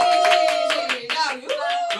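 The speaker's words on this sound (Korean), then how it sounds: "박수 쳐주세요." Audience clapping in rapid, steady rhythm during a playful variety show challenge before a butt-dance penalty, with a voice speaking or singing over the claps.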